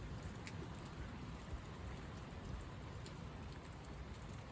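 A spring rain shower pours steadily and evenly, a dense close hiss of drops on surfaces with no voices, the downpour holding at the same strength throughout.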